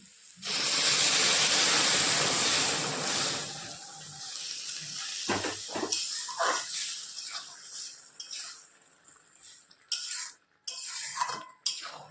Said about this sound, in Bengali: এর মধ্যে এখন আমি গরম জল ঢেলে দেবো